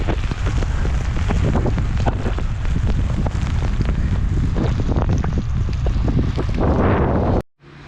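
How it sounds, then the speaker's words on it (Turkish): Loud, continuous rush of wind buffeting the microphone mixed with heavy rain and a motorcycle engine drone during a ride in a downpour, cutting off abruptly near the end. "Yağmur şiddeti inanılmaz arttırdı."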